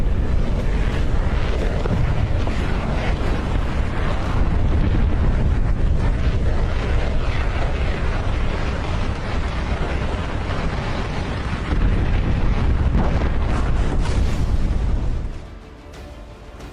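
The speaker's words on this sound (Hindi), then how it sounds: "इस मिसाइल हमले में कई युद्धपोत तबाह होते दिखाए गए हैं।" Explosions from an animated anti-ship missile attack on warships, with YJ-12 missiles fired from bombers in the South China Sea: a dense, continuous roaring rumble of blasts, loud throughout, with no voices, dropping away sharply near the end.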